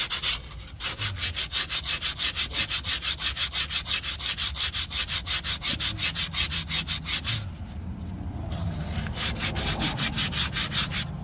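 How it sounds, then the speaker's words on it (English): A Dodge Dakota transmission line gets scrubbed free of corrosion with fast, rhythmic back-and-forth rasping strokes, close and loud, pausing briefly before resuming. "I just want to clean it up. Get all this corrosion off the line."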